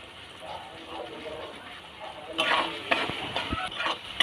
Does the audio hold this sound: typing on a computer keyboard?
no